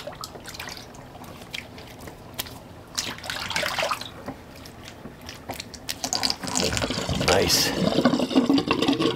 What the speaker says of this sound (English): let's empty good old Sigmund the Sea Monster sink